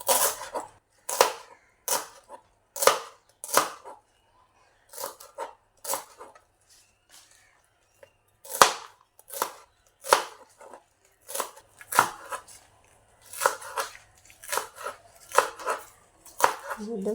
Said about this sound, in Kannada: ಈ ಥರ ಚಿಕ್ಕದಾಗಿ ಕಟ್ ಮಾಡಿ ಇಟ್ಕೊಳ್ತೇನೆ.